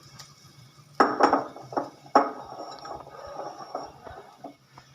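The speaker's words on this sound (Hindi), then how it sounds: "तो अभी इसके अंदर हमने चावल डाल देने हैं।" Uncooked rice poured into a pot of soft-cooked mixed vegetables for pulao, a close granular rush with scattered clinks and soft patters over a few seconds, no talk.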